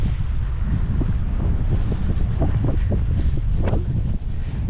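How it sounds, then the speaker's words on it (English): Strong wind gusts across a lake on a blustery day, buffeting the microphone in a steady, loud roar with rushing, rumbling bursts and no voices. "The wind is picking up at this end of the lake."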